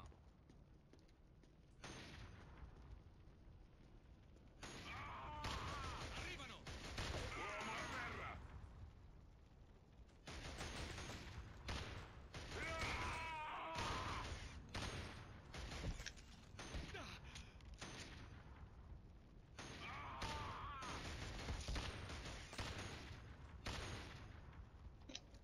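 In the video game Killzone HD, gunfire crackles in repeated bursts with quiet gaps between them, set against a busy battlefield background and carrying a few sharp reports.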